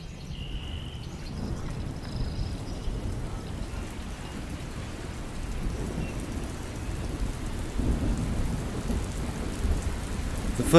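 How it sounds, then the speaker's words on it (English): Heavy rain pours down steadily with low, rolling thunder rumbling beneath it, a continuous dense wash of sound with no voices. "The first continuous rain of the season commenced during the night."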